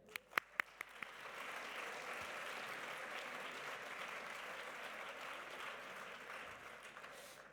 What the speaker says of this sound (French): je souhaite qu'on puisse les applaudir